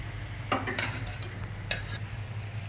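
Freshly fried French fries shift and rustle on tissue paper with a few brief, crisp crackles and light clinks, close and fairly quiet.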